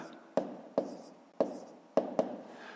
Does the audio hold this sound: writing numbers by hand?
yes